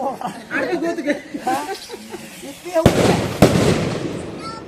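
Firecrackers burst in two sharp loud cracks followed by crackling noise, preceded by people chattering and chuckling nearby.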